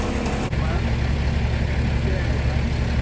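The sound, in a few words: car engine running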